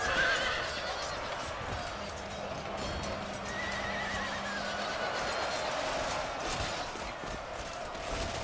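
Cavalry horses in a video game charge with loud, repeated neighs and whinnies over a dense rumble of galloping hooves and battle noise, continuous throughout.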